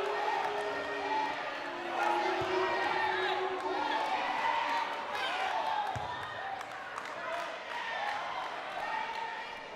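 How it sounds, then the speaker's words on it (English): A high school basketball crowd cheers in a gym during Whitinsville Christian at Nipmuc, a steady roar of voices with rises and falls, while an announcer talks over it and occasional ball bounces and sneaker squeaks are heard. "The crowd loves it."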